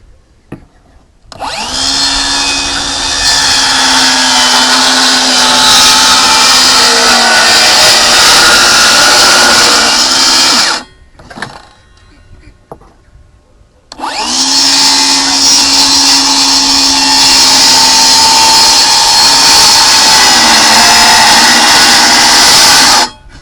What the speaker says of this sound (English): We'll finish that with the jigsaw.